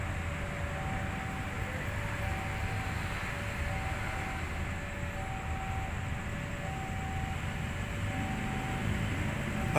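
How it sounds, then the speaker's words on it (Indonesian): A steady, broad rumble fills the air with a faint tonal hum, growing slightly louder toward the end as a train draws near a railway crossing. "Itu kereta apinya sudah mau datang itu, guys."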